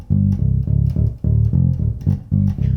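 A five-string bass guitar plays a riff, a punchy, repeating run of low, rhythmic pulsing notes in short groups, loud and close with no voices over it.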